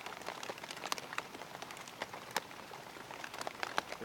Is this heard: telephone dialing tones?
no